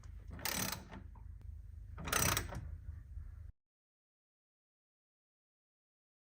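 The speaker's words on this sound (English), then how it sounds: "I like to use the big ratchet bar, and I'm gonna torque them really tight" Large ratchet bar tightening rock slider bolts on a vehicle: two bursts of rapid ratcheting clicks, fairly close, separated by quieter mechanical handling, then sudden silence.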